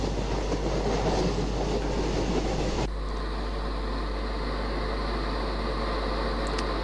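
Train rolling on rails in the Open Rails simulator on the Karnataka Express, Khandesh route: a steady low rumble with a dense clatter that drops to a quieter, smoother hum partway through, continuous and without speech.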